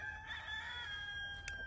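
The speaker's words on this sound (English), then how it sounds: "Do we get another cock-a-doodle-doo?" A rooster crows once on a farm in a drawn-out, wavering call, somewhat distant and moderately loud, ending with a brief sharp click.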